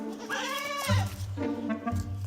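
A young goat bleats twice up close, each a wavering, nasal cry with a low rumble underneath, loud and clear with no talking.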